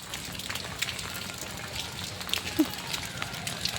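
Monsoon rain falls during the Sawan season, spattering onto a surface and a phone held outdoors as a faint, steady hiss and patter with a few sharper drops.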